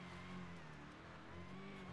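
A Jeep Trackhawk engine in GTA V holds a steady, fairly faint drone, with no clear revs or passes standing out.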